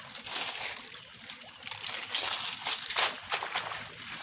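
Floodwater flows through a flooded rice paddy as the cold season begins, a steady close sloshing and trickling with small splashes rising and falling throughout.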